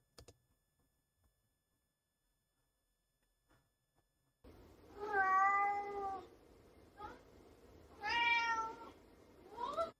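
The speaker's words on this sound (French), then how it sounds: "Donc ça, c'est le chat d'une propriétaire" A cat meows several times in drawn-out, wavering cries after a few seconds of near silence, close and moderately loud.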